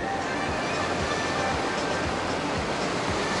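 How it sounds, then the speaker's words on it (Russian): Steady, loud rush of water pouring over a dam on a river carrying a lot of floating debris, a continuous broadband roar with low rumbling surges and no voices. "Сегодня у нас будет очень шумно, потому что мы находимся на дамбе."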